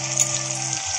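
Spices with green chilli, ginger, salt and turmeric frying in a pan over high flame for kebab, a brief steady hiss of sizzling oil with faint stirring, close and even.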